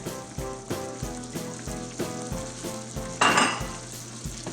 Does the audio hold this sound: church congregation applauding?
no